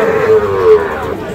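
Cattle leaving a cattle market in Dinajpur, where Sahiwal calves are sold, with a steady lowing moo held over a crowded market murmur, fairly close and alone without clear speech.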